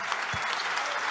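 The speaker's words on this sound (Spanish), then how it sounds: "Otro aplauso para todos" A brief, steady patter of audience applause fills a hall at a panel of Bogotá mayoral candidates, moderate in level and continuous for about a second.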